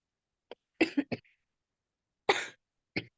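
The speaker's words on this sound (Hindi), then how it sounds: "आपकी खांसी की आवाज यहां तक आ रही है" Several dry coughs from one person on a video call, in a quick burst of three followed by two more spaced apart, fairly close and clear against silence.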